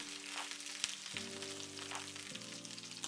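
Garlic, onion, roma tomatoes and guajillo and de arbol chiles frying in hot oil, a steady close crackling sizzle throughout, with a few light clicks of the pieces being moved around in the pan.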